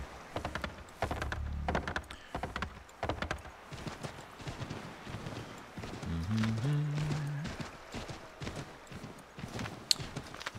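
Horse hooves clip-clop along in Assassin's Creed 3, a fairly quiet, uneven run of hoof taps and thunks. A voice talks faintly in the background.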